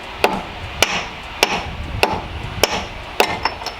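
Hammer blows driving a transmission seal into a Toyota pickup truck's housing with a socket sized to the ring, a series of six sharp metallic strikes spaced roughly half a second apart, close and loud.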